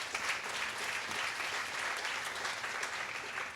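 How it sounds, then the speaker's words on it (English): Party crowd at a school assembly applauding, a few seconds of steady, even clapping from many people, fairly faint and distant with no talk over it. "So applause for them."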